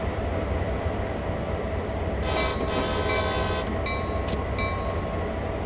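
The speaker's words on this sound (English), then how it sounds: "Blast the horn, release the brake, apply throttle." A locomotive in Train Sim World 3 rumbles steadily in a rail yard, then sounds its horn in a few loud, close blasts over the running engine noise.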